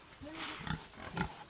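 A farm pig grunts nearby in a few short, low snorts spread over a second and a half, with faint background noise.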